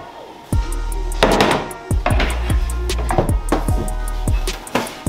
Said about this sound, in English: Now we're gonna chop up all of our vegetables.